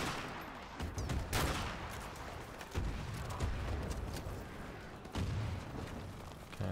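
Gunfire in the shooter Modern Warfare Remastered, campaign mission War Pig: dense bursts of automatic fire and heavy booms roll almost continuously, loud and close, with brief pauses between volleys and no talking.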